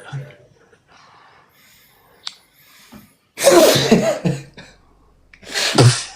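Two sneezes from a person, the first a sharp burst in the middle and the second near the end, each loud and close, with quiet murmuring talk and breathing in the gaps before them.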